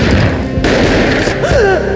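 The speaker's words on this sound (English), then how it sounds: "A gunshot boomed and she fell down in slow motion." A gunshot booms in the Max Payne video game, a loud dense blast filling the whole moment, with music and effects swirling around it.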